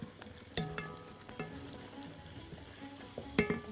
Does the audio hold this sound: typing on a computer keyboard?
no